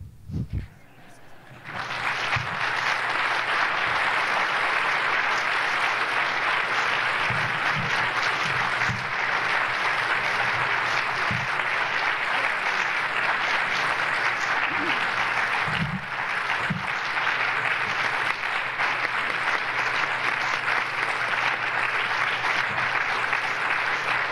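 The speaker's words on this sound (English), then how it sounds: "Well-deserved applause" Sustained audience applause closing a lecture at the APA 1995 annual meeting, broad steady clapping filling the hall for over twenty seconds, a few low thumps near the start.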